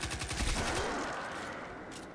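Rapid SMG fire in the Destiny 2 shooter game, a fast burst of shots that swells loud and then trails off into a fading roar.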